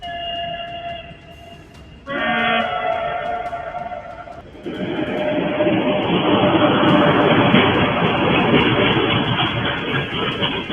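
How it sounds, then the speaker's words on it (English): A freight train roars past a crossing at close range, a steady heavy rumble and rush building loud after a few seconds of sustained, horn-like tones. "A freight train speeds past just seconds before hitting a bus at a crossing."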